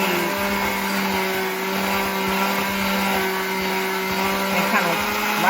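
An electric hand mixer whirs steadily on low speed, its beaters working through sweet potato puree for a vegan pie, a continuous close motor hum with faint scraping and no talk.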